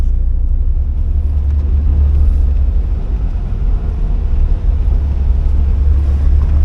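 A 1979 Porsche 924 is underway with a window half open. The engine gives a steady, loud, low rumble, mixed with road and wind noise heard from inside the car.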